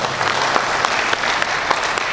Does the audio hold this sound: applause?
yes